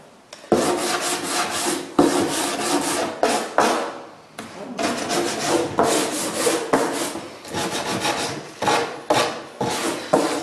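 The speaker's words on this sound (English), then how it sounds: "I'm going to finish up with my handy dandy sanding block" Repeated rough scraping of a sanding block over a wooden window sash, loud and close, in steady back-and-forth strokes with brief pauses, no voices.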